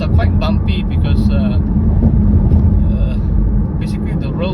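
A car drives over a bumpy, rough, cracked and potholed road between Tuaran and Kota Belud in Sabah, giving a loud, continuous low rumble of tyres and engine while a person talks over it.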